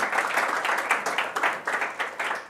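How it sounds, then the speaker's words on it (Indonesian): A church congregation applauding during a sermon, a dense burst of many hands clapping fairly loudly and unevenly in a reverberant hall, continuing steadily without speech. "Kita berikan tepuk tangan dulu buat Yesus Tuhan."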